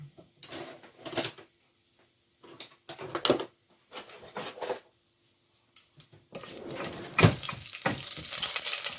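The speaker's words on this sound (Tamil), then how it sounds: "இது கொஞ்சம் தாளித்து கொண்டிருக்க" Mustard and fennel seeds temper in hot oil for a Jaffna dried fish curry, giving short bursts of crackling and popping with quiet gaps, then a denser, continuous sizzle near the end, close but fairly soft.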